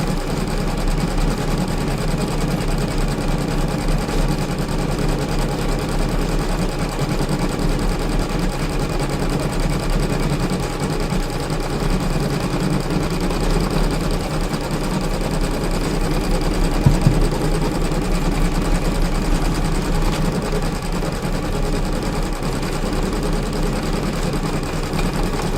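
A sewing machine stitches fabric-wrapped rope at 600 stitches a minute, producing a steady, fast mechanical whir and hum that runs continuously at moderate volume, with a brief click partway through.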